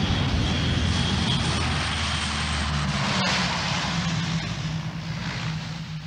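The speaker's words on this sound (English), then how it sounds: "the first of the RAF Hercules lands between the bomb craters on a stretch of runway" RAF Hercules propeller aircraft landing on a bomb-cratered runway, a loud, continuous engine and propeller drone close by that holds steady and eases off slightly toward the end.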